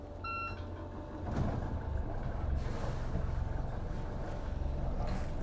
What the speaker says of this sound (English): And then I'm gonna press and hold the start button.